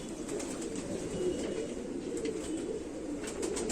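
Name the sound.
pigeon cooing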